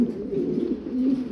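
A single high-quality pigeon gives a short, soft, low coo, close and alone, lasting barely over a second.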